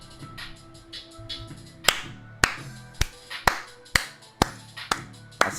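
Someone claps her hands in a steady series of sharp, close claps, roughly two per second, each a crisp snap over a low background hum, with softer claps at first and louder ones later.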